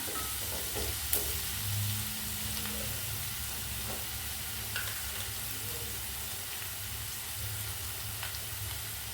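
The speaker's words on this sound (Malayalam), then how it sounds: "സവാള ഒന്ന് മൂക്കട്ടെ കേട്ടോ." Sliced onions frying in a pan for a Kerala beetroot dish give a low, faint, steady sizzle, with a few soft scrapes of stirring over the continuous hiss.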